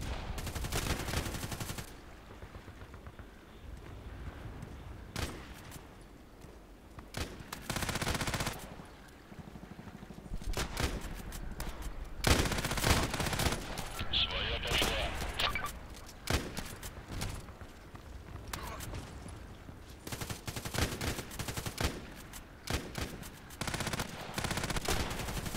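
Gunfire in the shooter game Contract Wars, with bursts of automatic fire and single shots repeating across a long stretch, loud and close, broken by short quiet gaps.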